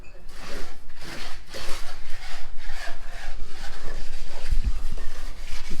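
Plaster coat being troweled onto the wall of a walk-in closet on a house build site, giving a steady, repeated scraping and rubbing rhythm at close range with no speech.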